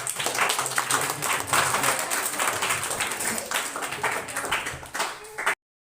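Students clap together at a school prize distribution at Jharkhand Public Residential School, Karudih: dense, steady applause of many hands, loud and close, running for about five seconds before stopping abruptly.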